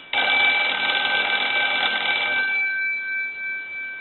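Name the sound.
Kellogg Red Bar rotary telephone bell ringing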